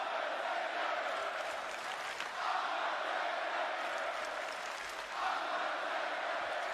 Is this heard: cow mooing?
no